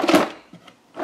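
A drawer slides open with a short wooden scrape in an animated scene, followed by a couple of faint soft knocks and a brief rustle near the end.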